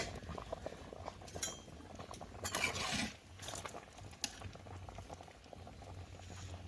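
Potatoes boil in a covered pot over a village kitchen fire, a steady bubbling and simmering with soft patter, punctuated by a few metallic clinks of the lid or utensils.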